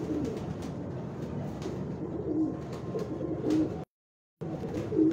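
Bullet pigeons on a rooftop give soft, low, repeated cooing calls at close range, with a steady murmur of birds around them and a brief dropout near the end.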